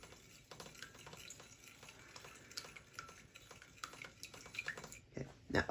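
A spoon stirs a chocolate tallow soap mixture in a bowl, giving a faint, continuous scraping and swishing with light clinks throughout.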